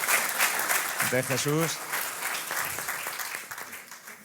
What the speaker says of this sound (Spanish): Un aplauso también para el aita